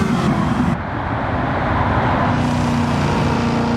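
The Stielow Engineering Red Devil Camaro racing at the Nürburgring, a loud, steady engine roar with road rumble that holds its pitch throughout, close and unbroken.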